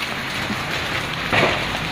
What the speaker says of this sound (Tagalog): So, sige siya og ulan.